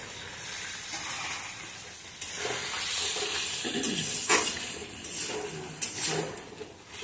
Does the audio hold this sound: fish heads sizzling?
yes